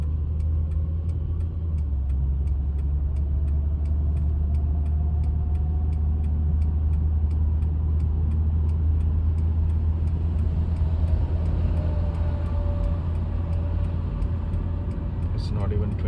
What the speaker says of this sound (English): So right now I'm putting in the drive, I'm pressing the gas. It's driving slowly